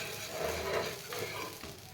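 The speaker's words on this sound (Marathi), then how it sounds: "फुल गॅसवरच हा डोसा एका बाजूने भाजून घेणार आहे" A masala dosa roasting on a pan over a full gas flame, a continuous close sizzle and crackle of batter against the hot surface, fairly steady in loudness, without any talking.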